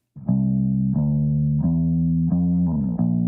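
A deep, tightly focused bass guitar, EQ'd to tighten its tone, plays a slow run of sustained notes, each plucked attack clear and even, with nothing else around it.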